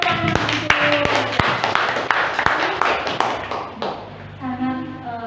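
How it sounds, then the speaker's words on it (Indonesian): A few people clap at a school dissemination event on positive culture, sharp separate claps in a loose uneven rhythm that thin out, followed by faint murmuring. "Berikan tepuk tangan"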